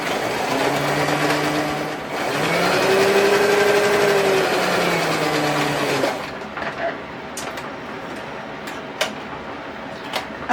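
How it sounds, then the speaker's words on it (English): A sewing machine runs steadily while stitching fabric for a neck phone pouch. A close, continuous motor whir with a rising and falling hum lasts about six seconds, then stops, leaving faint handling clicks and small taps. "I'm going to sew on the side, and then across the longer side, and then down the shorter side"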